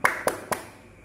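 Three sharp hand claps in an even, quick rhythm, close by, followed by a short fading silence.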